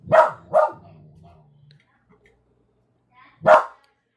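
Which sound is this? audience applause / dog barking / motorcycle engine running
dog barking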